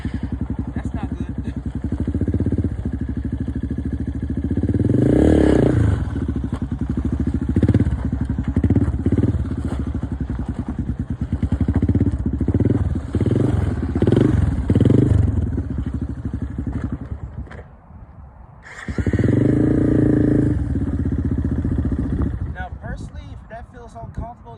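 A dirt bike engine revs and surges repeatedly during a circle wheelie, the throttle rising and falling in rhythmic bursts, loud and close, with a person talking at times.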